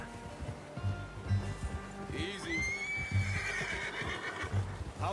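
A horse in Red Dead Redemption 2 clip-clops at a walking pace, then lets out a clear whinny midway, heard close and at moderate volume while someone speaks softly over the hoofbeats.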